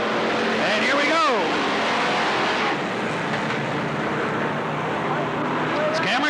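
Race cars roar off at the start of a 1991 race at Riverside Speedway (Cottage Grove Speedway), with engines rising in pitch close by and a steady, loud blend of motors throughout. A commentator talks over the engines.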